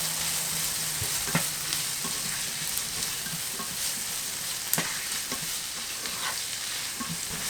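Vegetables and a tablespoon of garlic sautéing in a pan: a steady close-up hiss and sizzle of frying, with occasional light knocks of stirring and no talk.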